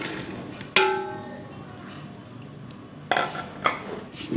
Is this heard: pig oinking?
no